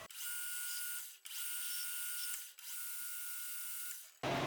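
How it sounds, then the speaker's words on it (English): A drill bores a hole through a steel shell mill arbor, a steady high whine in three long passes, each broken by a brief dip in the noise. "we're gonna have to finish drilling that hole"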